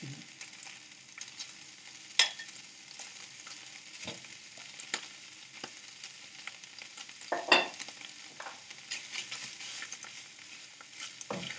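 Minced fish frying in a pan for a meat pie filling, a soft, steady sizzle with occasional stirring scrapes and two sharper utensil clacks against the pan, fairly quiet and with no talking.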